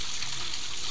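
Steady flow of spring water pouring from a public well pipe, a continuous close splashing rush with no talk.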